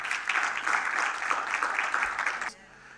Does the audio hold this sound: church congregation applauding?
yes